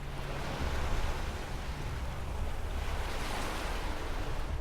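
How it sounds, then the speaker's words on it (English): Ocean waves washing beneath stilted water homes in Fallout 4, a continuous broad surf wash with gentle swells, fairly close and steady, without talk. "you kind of have the waves underneath"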